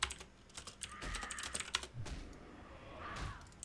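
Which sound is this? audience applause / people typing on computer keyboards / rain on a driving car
people typing on computer keyboards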